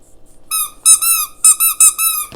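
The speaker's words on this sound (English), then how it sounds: "he helped me mod these aliens to squeak" Squeaker toys modded into Toy Story collection alien figures squeak in a quick series of sharp, high, whistly squeals, about four or five bursts in two seconds, close and loud with no talk.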